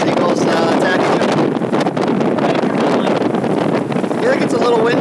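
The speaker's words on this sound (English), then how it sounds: "I feel like it's a little windy here." Strong gusts of wind in Big Bend, Texas buffet the microphone in loud, rough bursts, a constant blustery roar with flapping and rustling underneath.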